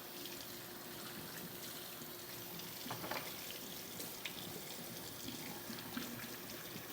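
Water runs steadily from a kitchen tap into a sink while dishes are washed up, a low, even, fairly faint rush with a few soft knocks from handling, and no talk.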